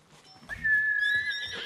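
In the Ghost of Tsushima video game, a single sustained, slightly wavering whistle rings out loud and close to call a horse, rising after a quiet start and holding for about a second.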